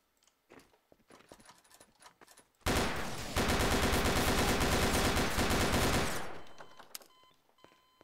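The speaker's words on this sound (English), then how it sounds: "Why are you shooting at me?" A sudden burst of rapid automatic gunfire in Garry's Mod rattles loudly for about three and a half seconds and then trails off, with scattered quieter clicks and shots before and after.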